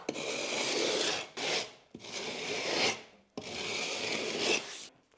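Rasping and rubbing across the rough cut end of a plasterboard sheet while smoothing it, in three long steady strokes separated by brief pauses, close and fairly loud with no talk.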